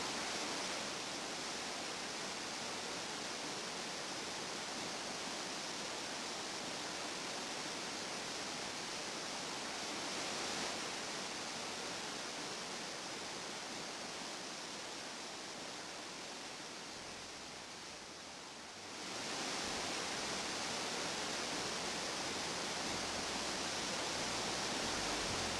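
Steady, dense roar of Moongally Falls, a waterfall in Queensland, a continuous broadband rush of falling water heard alone with no voices, briefly dipping slightly before returning to full strength.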